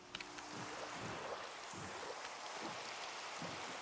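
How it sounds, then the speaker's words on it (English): Minecraft rain falling at night onto a pillar top, a soft continuous hiss of patter with faint low thuds underneath, no voices. "In the rain, on top of a pillar."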